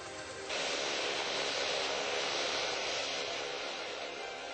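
Thai Air Force type 16 'Chicken' training aircraft in flight, a loud steady broadband engine roar that starts abruptly and holds continuously.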